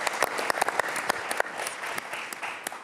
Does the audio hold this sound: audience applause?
yes